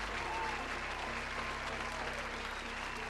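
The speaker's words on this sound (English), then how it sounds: "Where's the clap sound? There it is." A canned applause effect plays through a livestream, a steady dense wash of clapping and crowd noise holding at even volume for the full few seconds without pauses.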